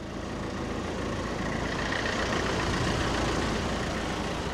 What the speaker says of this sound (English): The driver's got out of the vehicle and left the engine running.